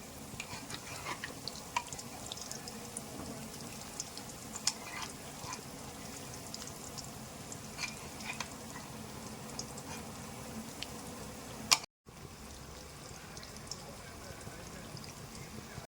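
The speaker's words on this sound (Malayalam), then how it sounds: "കറി നല്ലോണം തിളയ്ക്കുന്നുണ്ട്" Kerala-style roasted-coconut fish curry simmering in a pot, a soft steady bubbling and crackle with faint ticks and pops throughout, close and low in level, briefly cut near the end.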